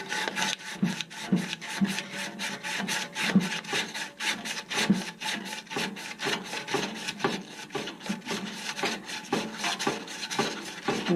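Sandpaper rubbing over a surface during an HVAC air-conditioning repair call, a steady run of close, rasping back-and-forth strokes repeating in a fast rhythm for about eleven seconds with no talking.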